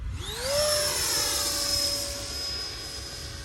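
Freewing A-4E/F Skyhawk RC jet with a 5280RC burner, flying in to land with flaps down, its electric ducted fan giving a rising whine that settles into a steady high-pitched drone over outdoor wind rumble.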